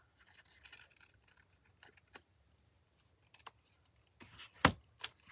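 Scissors trim an index card: faint, close snips and soft papery scratching in scattered bursts, with a sharper cut near the end and no talk.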